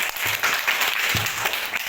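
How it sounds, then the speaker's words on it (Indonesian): Classroom applause, a short burst of many hands clapping steadily and fairly loud, with a faint voice underneath. "kasih tepuk tangan untuk Judan."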